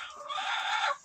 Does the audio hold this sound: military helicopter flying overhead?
no